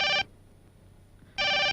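A telephone rings with two short electronic bursts separated by about a second of quiet, clear and fairly close, with no talk.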